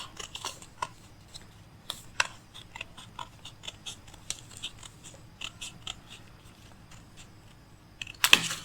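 Scissors cut fabric for a circle flare, producing a string of short, crisp snips at an irregular pace, close and fairly quiet, with a louder clatter right at the end.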